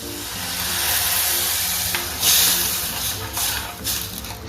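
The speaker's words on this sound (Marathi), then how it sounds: "आता हे वरण टाकते" Dal hits a hot tempering of spices and green coriander in a pot, giving a loud, continuous sizzle and steamy hiss that swells with a sharp burst partway through.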